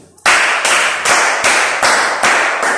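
A seated audience at a talk claps loudly in a slow, unified rhythm, each broad, sharp beat spaced evenly and close to the microphone, starting abruptly after a brief silence.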